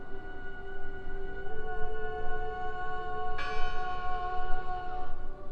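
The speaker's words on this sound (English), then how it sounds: "I heard the bell!" A church bell in the video game Draugen tolls with a long, resonant ring over a low ambient rumble, then a fresh strike sounds midway and hangs in the air.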